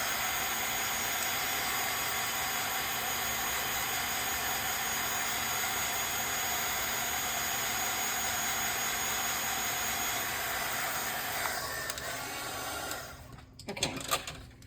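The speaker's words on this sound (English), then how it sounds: "So I'm just gonna run the heat tool over it one more time." Heat embossing tool blowing steadily over a paper pumpkin greeting card, a loud continuous whirring hiss that holds for about twelve seconds and then cuts off with a few clicks and handling noises.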